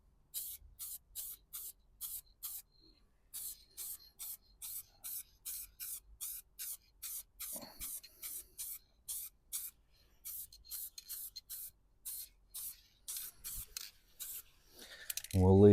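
Short, sharp bursts of spray paint in Mercedes Brilliant Silver, paint code 744, hiss onto a rear car wheel in a quick rhythmic series of about two dozen puffs, close by, ending with a brief louder noise.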